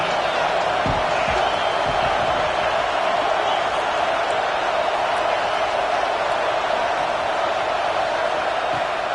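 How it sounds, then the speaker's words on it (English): A large football stadium crowd roars in a continuous, loud wash of cheering that swells as the defense is urged on, with a few thuds and faint voices in the mix. "This crowd rising up"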